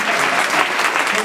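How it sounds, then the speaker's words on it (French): Indoor audience clapping together at a French palliative care gathering, a short, dense burst of applause heard close and loud. "Oui, vous pouvez l'applaudir."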